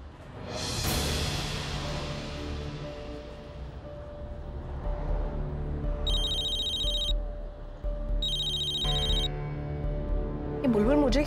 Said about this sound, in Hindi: ये बुलबुल मुझे क्यों फोन कर रही है?